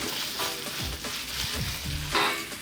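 Chopped black beans hit a hot wok with a loud, steady frying sizzle, close up, with scraping stir sounds and no talking.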